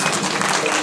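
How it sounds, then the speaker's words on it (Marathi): Audience applause at a kirtan gathering, dense steady clapping from a crowd filling the whole moment at close range. "जोरदार टाळ्या"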